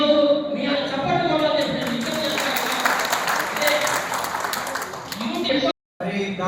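Applause from an audience at the inauguration of the Munnuru Kapu Kalyana Mandapam community wedding hall in Vemulawada, a dense, steady wash of clapping running for several seconds, mixed with voices and a brief dropout near the end.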